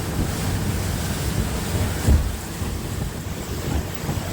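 A fishing boat cruises past a naval base on Garden Island, with steady broadband water and wave wash and wind buffeting the microphone throughout, plus one brief louder thump midway.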